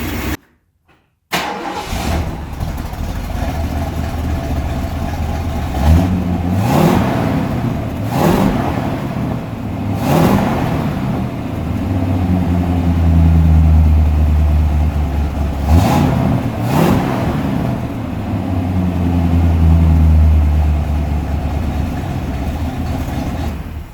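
A 1964 Ford Fairlane 500 engine cranks and fires after 24 years sitting, then runs loudly and close with repeated revving surges over a rough idle, following a brief silent gap at the start.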